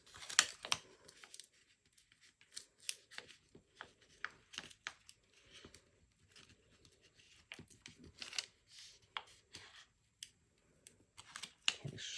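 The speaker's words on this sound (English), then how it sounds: "I'm just peeling this away and I'm leaving the vinyl behind on the transfer tape" Vinyl backing is peeled away from transfer tape in short, faint crackling tears and crinkles, an irregular series of soft rips with quiet gaps, close up.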